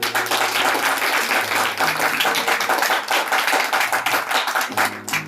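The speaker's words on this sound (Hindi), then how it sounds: "जोरदार ताली बजाएं।" A church congregation claps loudly and steadily for about five seconds, a dense crowd applause that fills the room, with a faint tonal hum underneath.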